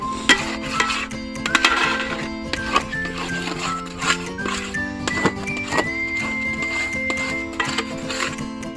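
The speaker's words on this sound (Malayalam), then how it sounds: "ഇപ്പോൾ കാണുന്ന മിക്സിലേക്ക് തേങ്ങ ചിരവിയതും കുറേശ്ശെ ഇട്ടുകൊടുത്ത് നന്നായി ഇളക്കിക്കൊണ്ടിരിക്കുക." A spoon scrapes and stirs a ripe jackfruit mixture with grated coconut in a pan for a traditional jackfruit sweet, giving repeated scraping and clinking strokes over steady tonal background music.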